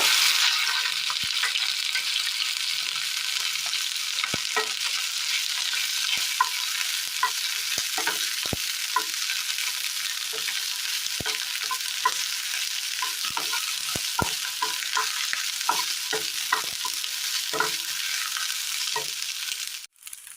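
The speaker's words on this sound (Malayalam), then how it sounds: "ഇനി ഇതിലേക്ക് വെണ്ടയ്ക്ക ഇട്ട് കൊടുക്കാം." Okra frying in a little oil in a pan on a stove for a Kerala dish, with a constant dense sizzle and irregular clicks and scrapes as it is stirred.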